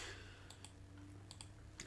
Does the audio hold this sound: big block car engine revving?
no